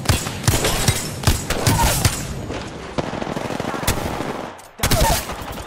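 Rapid bursts of automatic gunfire from a first-person shooter video game, loud and dense, with short breaks and a brief near-silence toward the end before more shots.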